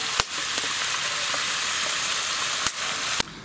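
Mixed meats and onions fry in a Petromax FT6 Dutch oven, giving a steady, dense sizzle with a few sharp clicks and scrapes from stirring, close and alone.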